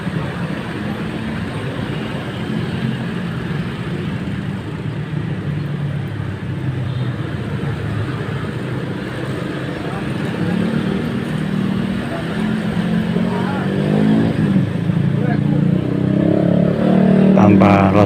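Busy traffic at the Malabar market intersection in Tangerang, a dense, continuous roar of engines and passing vehicles that grows louder toward the end, with voices faintly mixed in.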